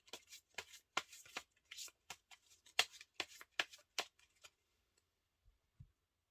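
Tarot cards shuffled and drawn by hand, a quick run of crisp close-up riffling and snapping card clicks that thins out and stops, followed by a couple of soft taps in near silence.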